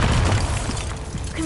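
A Bombarda explosion spell goes off in Hogwarts Legacy, a loud, deep boom with a rumbling low end that rolls on for over a second before tailing off.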